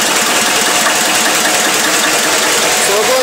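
A Listeroid diesel engine running for home power, heard through its muffler as a dense, loud, continuous rumbling exhaust noise filling the whole clip, with no other sound standing out.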